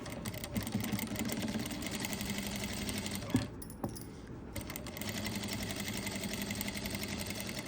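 A sewing machine runs continuously as it stitches along cut work on a garment neckline, a close, steady mechanical whir with a short pause in the middle.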